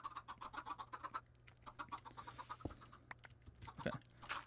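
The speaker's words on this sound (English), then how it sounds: "Since when did chickens make so much noise?" Minecraft chickens cluck in quick, rapid bursts, a busy chattering flock heard close, with a few sharper squawks mixed in.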